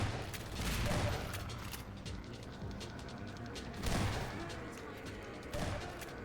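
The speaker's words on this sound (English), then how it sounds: "That's another grenade." Grenade explosions go off in the Half-Life 2 Episode 1 video game: several dull booms with crackling debris, at about one, four and five and a half seconds, fairly faint amid game noise.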